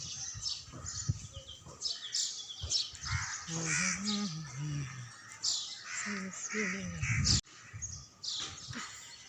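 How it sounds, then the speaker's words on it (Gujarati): Harsh cawing from a crow nearby, several calls in bursts, mixed with other bird chirps and a person talking. "કાગડાભાઈ પણ આવ્યા"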